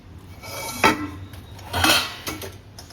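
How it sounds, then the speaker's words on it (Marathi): Metal pots and dishes clatter as they are shifted around, with a few distinct knocks and clinks spread over a few seconds against a quiet background. "भांडी पण थोडीशी इकडे घ्यावी लागते"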